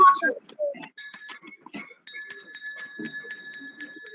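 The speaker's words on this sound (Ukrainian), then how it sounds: "Дзвон. Дзвіночки." Small bells ring during a music lesson in a steady series of bright, metallic strikes, first a few scattered jingles, then repeated evenly spaced rings, with a voice speaking briefly at the start.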